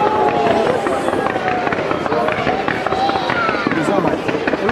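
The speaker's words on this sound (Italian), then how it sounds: "i fuochi d'artificio sono della ditta Fratelli Toscano con tutta Lazio." A fireworks display at the 2019 San Giovanni Battista festival in San Giovanni Montebello by the Fratelli Toscano firm: rapid crackling bursts and whistling rockets go off continuously and loudly, with a crowd murmuring underneath.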